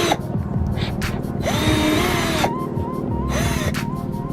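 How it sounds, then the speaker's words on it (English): A power drill bores a hole in a Mustang to mount a ZL1 Addons wicker bill, whining loudly and steadily up close, with the motor pitch rising and dipping as the bit bites and eases off. "I'm going to be drilling the hole right there"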